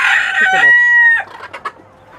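A rooster crows loudly and close on a poultry farm, then hens cluck in short, uneven bursts.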